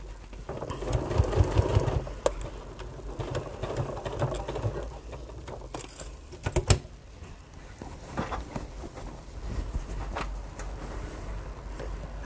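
Sewing machine stitching a bag, a steady mechanical whirring hum with needle chatter, easing off briefly and broken by a few sharp clicks and knocks, close and moderately quiet.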